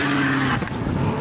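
A car with its engine left running is driven off by the passenger, a steady loud engine roar with a brief tyre hiss partway through.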